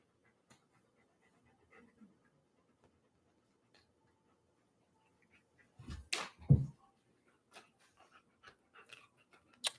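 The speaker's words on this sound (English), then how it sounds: "Most lovable dog ever." A dog gives a short burst of close, breathy panting and snuffling midway through an otherwise quiet stretch, followed by a few faint scattered clicks.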